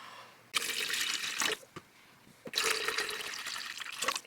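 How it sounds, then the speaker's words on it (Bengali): Water splashes and gurgles as it pours into a humidifier tank in two separate streams, each about a second long, close up, with a few drips and clinks in the pause between. "চলো এটাতে জল দিয়ে দিই এখন।"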